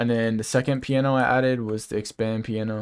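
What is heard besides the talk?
No everyday noises stand out.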